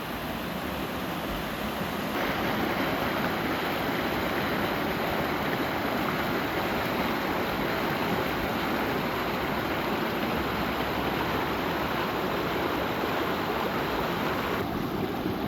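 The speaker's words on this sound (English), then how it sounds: "This is where one of the springs comes out and feeds the creek. It's flowing quite a bit of water." Creek swollen after about twelve inches of heavy rain, fed by a spring, rushing steadily as a loud, continuous broadband roar of flowing water with some wind noise across the whole span.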